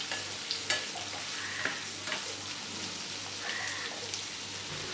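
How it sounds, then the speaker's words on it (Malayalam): Onions and green chillies sauté in a hot pan for chilli pork, giving off a steady close sizzle and crackle, with occasional sharp scrapes of stirring. "സവാള ചേർത്ത് നന്നായിട്ട് വഴറ്റി കൊടുക്കണം."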